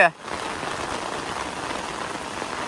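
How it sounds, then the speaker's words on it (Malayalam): Heavy rain pattering steadily on a surface, close and even, during snakehead fishing outdoors, after a brief voice at the very start. "നല്ല മഴയുണ്ട്"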